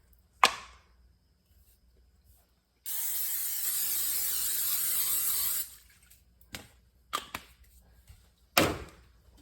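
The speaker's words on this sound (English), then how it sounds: "then we need to spray the baking dish with cooking spray" An aerosol can of cooking spray coats a baking dish with one steady hiss lasting about three seconds, set between scattered clicks and clatters from handling the can and dish in a quiet kitchen.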